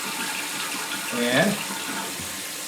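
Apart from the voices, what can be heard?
toilet tank refilling with water after repair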